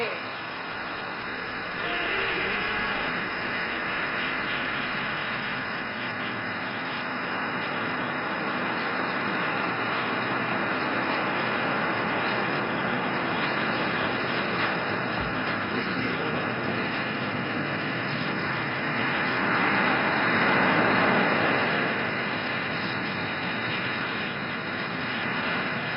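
Suryakiran aerobatic team jet aircraft at the Aero India air show in Bangalore, a loud, steady broadband jet roar that swells and fades slightly as the formation moves, with a public-address voice faintly under the noise.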